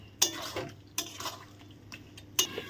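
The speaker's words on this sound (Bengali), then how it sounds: "ভালো করে নাড়ে চেড়ে একটু ঢাকা দিয়ে দেব" A spoon scrapes and clanks against a pot of chicken curry, with about four sharp metallic knocks spaced among softer scraping strokes, fairly close by and without speech.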